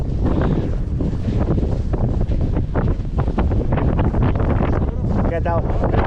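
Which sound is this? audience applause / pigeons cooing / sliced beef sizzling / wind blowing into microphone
wind blowing into microphone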